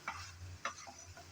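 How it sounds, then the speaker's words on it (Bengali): Ridge gourd being stirred as it fries, a faint low sizzle with two quick scraping strokes of a spoon against the pan. "নেড়েচেড়ে মিশিয়ে নেব বলে।"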